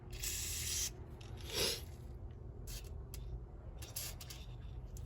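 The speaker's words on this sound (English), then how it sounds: "I like to squirt some WD in there, because especially on the needle, just so it's all moving real freely." Short bursts of WD-40 sprayed from an aerosol can into a minibike carburetor, two or three quick close hisses with brief pauses and some faint handling noise between them.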